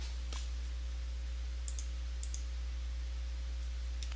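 A computer keyboard gives a handful of faint, scattered key clicks while a word is typed, set over a steady low electrical hum.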